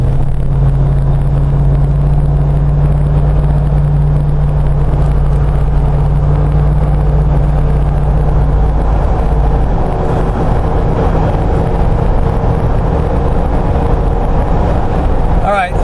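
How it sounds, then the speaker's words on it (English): Inside an LS-swapped Jeep JK cruising at 40 to 60 mph, a constant loud low rumble of tire and wind noise fills the cabin throughout, steady and unbroken. "I can hear tire noise and some wind noise, and that's about it."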